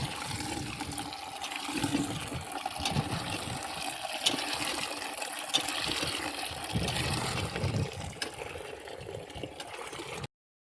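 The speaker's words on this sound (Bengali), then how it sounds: "এখন ইটগুলোয় জল দিচ্ছি যাতে ভালো মশলা ধরে" Water splashes and gushes steadily onto stacked bricks at a house construction site, a continuous close wash of liquid lasting about ten seconds with no talking.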